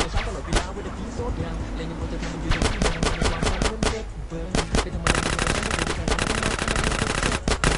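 Loud, rapid automatic gunfire in GTA multiplayer, with bursts of machine-gun shots that become sustained and dense toward the end, mixed with game noise and voices.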